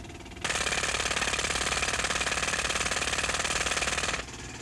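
A jackhammer heard from inside the cab of a 1981 Chevrolet El Camino, its rapid hammering rattle starting abruptly, running steadily and loudly for about four seconds, then cutting off, with a low rumble before and after.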